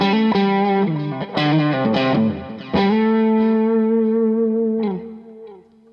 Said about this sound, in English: here's just a basic core tone, bit of overdrive, bit of reverb and delay.